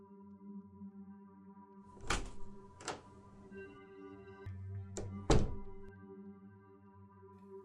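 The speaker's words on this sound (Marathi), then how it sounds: "जसा बाथरूमचा दरवाजा बंद झाला" A bathroom door shuts with a few dull, separate thuds and knocks, fairly close, over a low steady musical drone with no talking.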